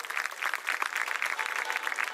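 Audience clapping at a school annual meet, a short steady burst of applause from a crowd, fairly even and sustained, no talk.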